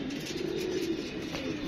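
Pigeons coo close by in soft, repeated rolling calls that continue without a break and have no talk over them.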